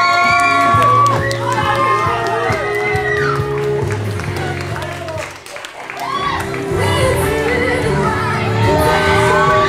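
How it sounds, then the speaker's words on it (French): Audience at a cosplay contest at the Geek & Collect 2023 convention clapping and cheering loudly, with children shouting and whooping and voices talking over the crowd throughout, briefly dipping before swelling again. "Applaudissez-le bien fort."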